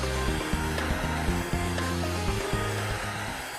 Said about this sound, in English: the blaster adjusts the speed of the nozzle with the goal of clearing the substrate to near white metal